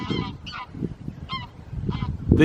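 Geese honking repeatedly outdoors, a loose series of loud nasal calls close by that overlap and grow busier toward the end.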